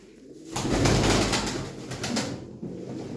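A racing pigeon hen coos in a steady run of low, throaty notes, close and fairly loud, with no voices over it.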